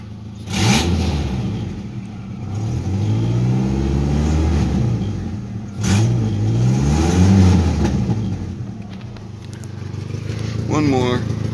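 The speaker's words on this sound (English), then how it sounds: "Three revs for Dale." A 1994 Ford Ranger XLT pickup engine revs up three times, each rev rising and falling in a throaty roar, with a loud exhaust rumble between them.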